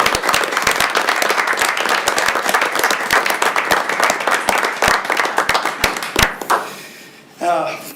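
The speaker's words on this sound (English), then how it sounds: "So I'd like you all to join me in a round of applause for Coach Sparks, class of 2025 Hall of Fame" A Hall of Fame ceremony audience applauds loudly with dense, steady clapping for about six seconds, then it tapers off and a single voice begins speaking.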